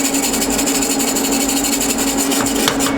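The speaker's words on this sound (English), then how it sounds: "even though this is raw aluminum, I'm still going to brush it with my aluminum brush" Steady rough scraping of an aluminum wire brush scrubbing a raw aluminum pipe for a cold air intake, continuous, loud and close with a rhythmic rasping texture and no speech.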